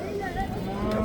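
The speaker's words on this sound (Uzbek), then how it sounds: "Dasht qo'ylari, boladan ajragan qo'ylar." A steppe sheep separated from its lamb gives one long, drawn-out bleat, loud and close, over a low background murmur.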